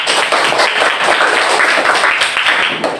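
A classroom group claps together in a dense, loud, continuous burst of applause lasting a few seconds, with no voices over it.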